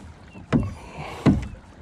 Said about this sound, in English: Listen to that wake.